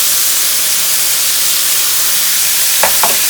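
Fish curry mixture with tomatoes, curry leaves and salt cooking in a pan, a loud steady steamy hiss and sizzle, with two brief scraping knocks of a stirring utensil near the end and no talking.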